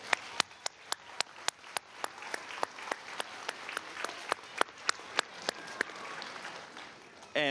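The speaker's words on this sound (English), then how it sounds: "So how about just a round of applause for all the parents tonight," At a school band Christmas concert, a few audience members clap sparsely, with distinct claps at a fairly regular rhythm over quiet room murmur, moderately close and never building into full applause.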